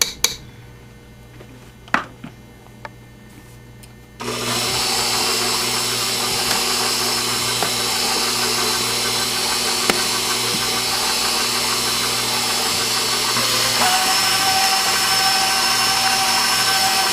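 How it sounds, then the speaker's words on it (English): Electric mixer beating batter with pureed pumpkin, starting with a few handling clicks and then a loud, steady motor whir that runs continuously until the end. "We're gonna beat this in just until mixed, and then we're gonna mix in a cup of pureed pumpkin."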